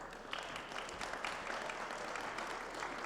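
A conference audience at a broadcast trade show applauds steadily and fairly densely for about three seconds, a continuous patter of many hands at moderate, somewhat distant volume with no voices over it.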